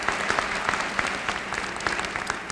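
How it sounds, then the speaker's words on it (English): Commencement audience applauding the university trustees and system president at a University of Arkansas ceremony, a dense, steady patter of many hands clapping from a large crowd, moderately distant, with no talk. "Let's give them all a round of applause."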